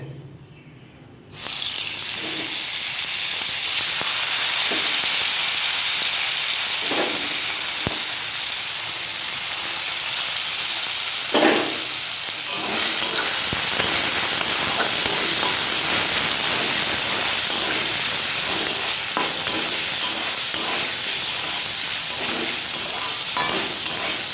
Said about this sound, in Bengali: তো এটার মধ্যে চালগুলো দিয়ে কিন্তু আমি ভেজে নেব।